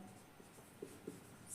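Writing an English sentence on a board makes soft, faint scratches and taps in a few short strokes, close by in a quiet classroom.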